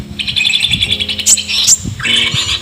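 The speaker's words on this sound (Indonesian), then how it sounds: "Ini sejenis burung madu juga guys" A sunbird (burung madu) chirps close and loud in quick bright bursts of thin high twittering notes, with a few sharp upward whistles, over a faint background hum.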